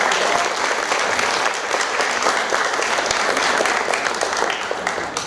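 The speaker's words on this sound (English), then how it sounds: "So that calls for a big round of applause." Theatre audience at a mono acting festival in the Chandler Theatre gives sustained, even applause, a dense continuous wash of many hands clapping with no talk over it.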